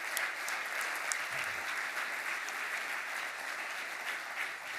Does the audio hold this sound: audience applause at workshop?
yes